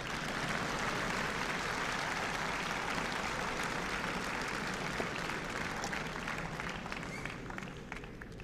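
Applause from a large audience at the CREDAI Youthcon 2019 event, a steady, dense wash of clapping that holds for several seconds and thins slightly toward the end.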